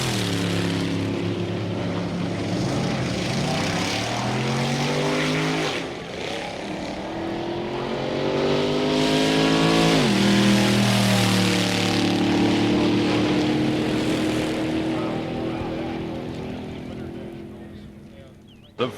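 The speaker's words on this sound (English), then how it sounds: "The first sounds are those of the stockers, the cars you and I drive on the street." Stock street cars, Chevrolets, Fords, Pontiacs and Dodges, race at a 1963 drag strip; engines roar and climb through rising gear sweeps, loud and close, easing off near the end.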